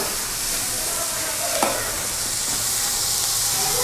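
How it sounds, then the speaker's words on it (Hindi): Vegetables fry lightly in a pan for a chicken corn soup, a steady soft sizzle throughout with one brief clack of stirring partway through, close and even. "वेजिटेबल को हम बिल्कुल लाइट फ्राई करेंगे।"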